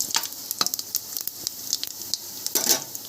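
Whole star anise and bay leaf sizzle in hot oil for spiced masale bhat rice, with a close crackling fry and light scraping as they are stirred.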